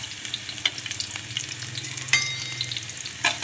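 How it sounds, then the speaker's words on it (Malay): Chopped shallots sizzle in hot oil for a fish-head curry, giving a steady crackling fry with a few sharp pops and faint stirring scrapes, close and fairly loud, with no talk. "Saya masukkan bawang merah yang saya dah potong-potong tadi."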